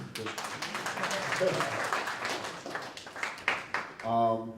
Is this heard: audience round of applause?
yes